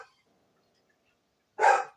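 A single short dog bark bursts out near the end, loud and close, after a long near-silent stretch.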